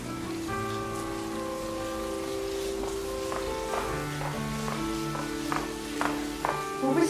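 Steady heavy rain patters on surfaces throughout, a continuous wash of drops beneath sustained music tones, with no voices in this stretch.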